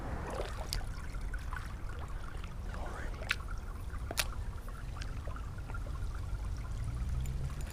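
Shallow creek only a few inches deep trickling and burbling steadily at close range, a soft continuous wash of water with small splashy ticks scattered through it and no talk.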